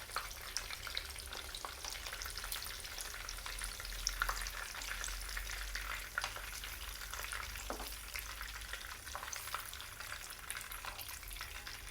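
Chicken pieces frying in hot oil over a medium flame, a second batch for chilli chicken gravy, giving a steady dense sizzle with crackling pops and occasional stirring clinks throughout, with no talk.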